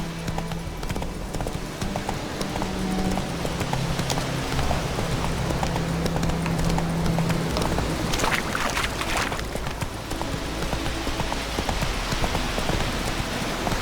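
Roach the horse gallops in Witcher 3: Blood and Wine, hooves clip-clopping in a steady, close rhythm over a constant bed of rain-like noise, with no talk.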